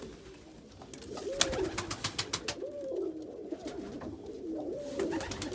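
A young pigeon coos in a loft, with three rolling, close coos spread evenly over a quiet background, each one rising and falling in a soft warble.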